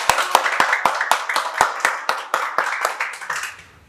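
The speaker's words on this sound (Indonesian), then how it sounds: "Sekali lagi tepuk tangan dong untuk Bapak." Audience clapping for a speaker at an Indonesian IT talk event, a few sharp, evenly spaced claps building into a brief round of applause that fades out.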